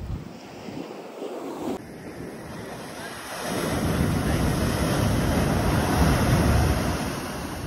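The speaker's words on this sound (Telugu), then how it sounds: "అలలు చూడాలి, ఎంత ఫోర్స్ వస్తున్నాయి చూడు" Strong sea waves surge and crash at a Kerala beach, a broad continuous roar that swells louder midway and stays heavy, with wind buffeting the microphone.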